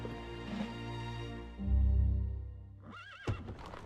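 Horses neigh and whinny in a strategy video game battle, a loud drawn-out whinny followed by a second sharp neigh, with faint hoofbeat-like clatter underneath and no talk.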